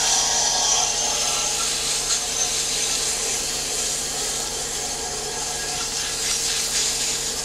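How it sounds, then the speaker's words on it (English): Wood finish being hand-sanded back with 320 grit sandpaper, a steady close rasping rub that runs continuously without pause. "So we go back to the 320 grit and sand that off."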